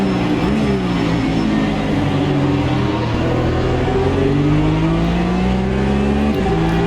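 A race car engine in the Automobile Simulator 2 game drones loudly and steadily, its pitch rising and falling with gear changes and revs, with no voices over it.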